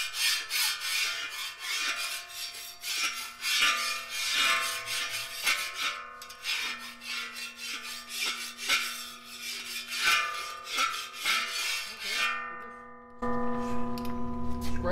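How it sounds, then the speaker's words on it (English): A metal utensil scrapes leftover food out of a discada dish in quick, steady rasping strokes. It sounds close and fairly quiet, with faint ringing from the metal, and no one speaks. "Scraping the excess off, loosening it up."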